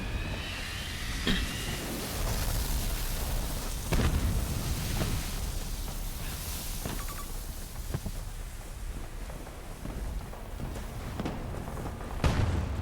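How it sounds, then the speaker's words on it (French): A sandstorm sweeps across a Battlefield game map, a dense, steady roar of wind that fills the whole stretch, punctuated by occasional sharp thumps and cracks. "Tempête de sable! À couvert tout le monde!"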